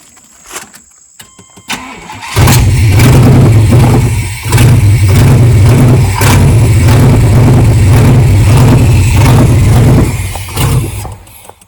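A 1993 Chevrolet Suburban engine with a leaking fuel tank runs on starting fluid, catching after a quiet pause and roaring steadily and loudly up close for about eight seconds before dropping away near the end.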